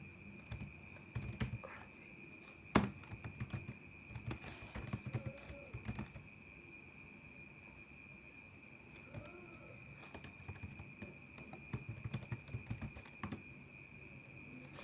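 Steady computer keyboard typing with irregular clusters of soft key clicks and a few louder taps, close and fairly quiet, during network command work on a computer.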